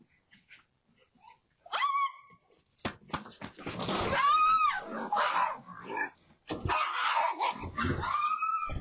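A dog yelps and whimpers excitedly in a sudden outburst, loud and close, after being chased indoors by a raccoon, with scuffling and agitated noise filling the rest of the moment.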